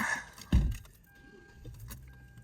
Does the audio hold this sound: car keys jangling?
yes